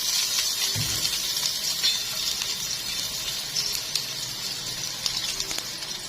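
Sliced onions hitting hot oil for a potato and chicken tray bake give a steady, fairly loud hiss of frying sizzle that runs throughout, with a few soft pops.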